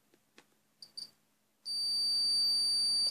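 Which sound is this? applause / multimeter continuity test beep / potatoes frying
multimeter continuity test beep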